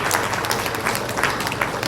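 Applause from a crowd welcoming India's agriculture minister at the inauguration of a honey processing unit, steady dense clapping filling the whole moment without a break.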